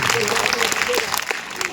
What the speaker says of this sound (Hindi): इन बच्चों के लिए जोरदार ताली बजना चाहिए,